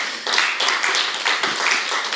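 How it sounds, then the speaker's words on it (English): Audience applause for a panel at an activist event on people-powered movements against Shell: a steady, moderately loud wash of clapping hands that sustains throughout without pause. "Give them one more applause."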